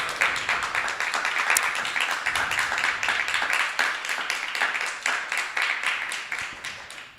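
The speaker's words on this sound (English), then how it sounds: "Let's give a round of applause for Nirakala Mataji here." Audience members at a Mother's Day Sunday feast lecture clap together in a brisk, continuous round of applause, with no talking over it.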